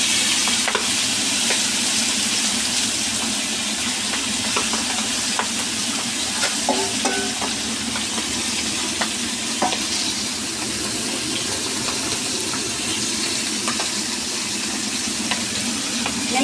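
Marinated milkfish (bangus) fries in oil in a pan, giving a loud, continuous crackling sizzle with scattered pops and faint utensil scrapes throughout.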